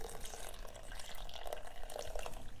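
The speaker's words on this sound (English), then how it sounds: "So I'm just going to pour this juice" Pineapple juice pours into a bowl with a soft, steady liquid trickle and a few drips, fairly quiet and close, with no talking over it.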